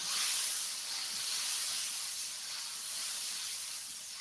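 Blended curly chili and tomato sizzling in hot oil in a frying pan, a steady, bright hiss that swells slightly and stays continuous throughout, with no talking.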